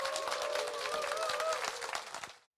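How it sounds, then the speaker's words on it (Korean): A lecture hall audience claps to welcome a lecturer, a dense patter of many hands that holds steady for about two seconds and then stops abruptly. A tonal line sits faintly under the clapping. "큰 박수로 맞이해 주십시오."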